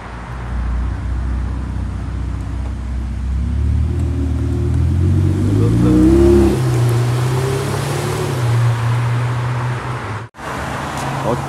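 A Ferrari 458 Speciale Aperta with a triple exhaust runs loud and close, its engine droning steadily, then climbing in pitch midway before settling into a higher sustained tone.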